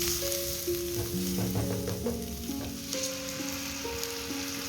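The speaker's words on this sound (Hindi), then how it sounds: "उसमें हल्का सा फ्राई करना है लहसुन और हरी मिर्च को।" Garlic and green chilies frying lightly in oil in a pan, a steady close sizzle throughout while preparing white sauce pasta, with faint tonal background sounds and no talking.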